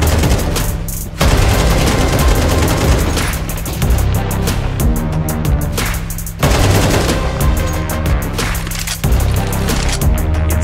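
Rapid bursts of gunfire in Counter-Strike 2 during a BLAST World Final match, dense and loud, with several volleys separated by brief breaks and booming low end throughout.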